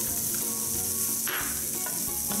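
Onions hitting a hot pan and sautéing for salmon escabeche, a steady loud close sizzle with faint stirring scrapes and no voices.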